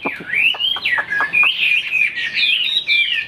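A tame pet songbird sings loud and close, pouring out continuous whistled phrases broken by quick chirps, with no talking.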